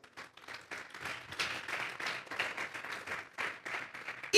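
Church congregation applauding, a fairly quiet spread of uneven clapping that swells and thins in bursts, heard from some distance without clear speech.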